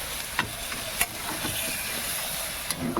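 Water hits a hot pan of frying spiced potatoes for an aloo jhal curry, producing a steady close sizzle and hiss with a few sharp clicks from stirring.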